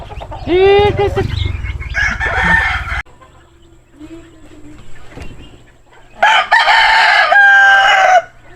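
Chickens cluck loudly close by and a rooster crows in two bursts, at the start and the end, with quieter farmyard sound between them.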